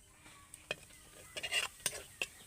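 Spices frying in oil in a pan while being stirred, quiet scraping and clinking strokes of a spoon with soft sizzling, in irregular bursts.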